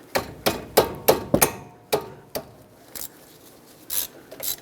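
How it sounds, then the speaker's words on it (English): Sharp metallic clanks from a 12mm socket wrench breaking a banjo bolt loose on a Nissan Altima brake caliper: a quick run of five or six close, loud knocks, then a few scattered softer taps and scrapes, with no voices. "use a 12mm socket or wrench and break the banjo bolt free off the old caliper"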